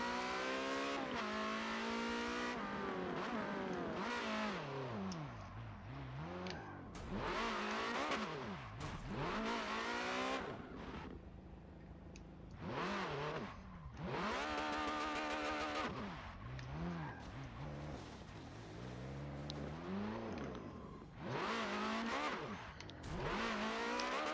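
A Ferrari engine in Forza Motorsport 7 revs hard and repeatedly, rising and falling in loud bursts with brief tire squeal as the car attempts a donut, with music-like tonal layers running continuously throughout.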